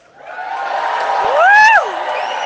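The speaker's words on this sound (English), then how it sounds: "look at this amazing crowd we have gathered here in Winnipeg tonight" A rally crowd in Winnipeg cheering and applauding at night, a broad steady roar of claps and voices with a rising whoop that swells toward the middle.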